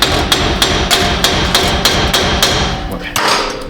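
A hammer strikes metal repeatedly while a front wheel bearing is worked out of the steering knuckle of a 2017 GMC Canyon, about a dozen sharp, loud, evenly spaced blows close by.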